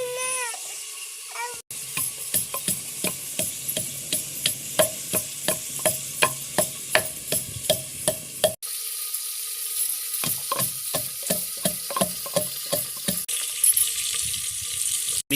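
Onions fry in a pan in a Sindhi village kitchen while being stirred with steady, rhythmic scraping strokes over a continuous sizzle. A cat meows briefly at the start.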